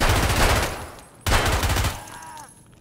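Two loud, sustained bursts of automatic fire from a P90 rip out close up in Escape From Tarkov, separated by a brief pause, with the second burst tapering into a ringing tail.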